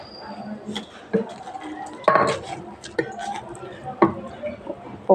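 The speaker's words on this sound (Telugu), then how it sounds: "పప్పు ఎనుక్కుంటున్నాను ఫ్రెండ్స్" Cooked dal with amaranth leaves is mashed in a pot in an apartment kitchen, making intermittent scraping and knocking strokes of a utensil against the pot at irregular intervals, close and moderately loud.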